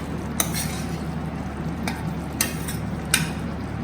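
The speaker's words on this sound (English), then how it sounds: "Just stir it a little bit." Sweet and sour paneer sauce stirred in a pan: a low steady simmer bed with a few sharp spoon scrapes and taps against the pan, close and moderately loud, no talking.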